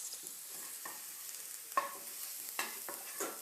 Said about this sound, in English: stir it around, and you only wanna saute it just until it turns golden